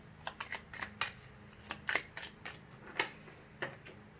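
Tarot cards are shuffled by hand, a quiet, close series of crisp riffling slaps and flicks at an uneven pace, each one short and papery, over a faint low background hum.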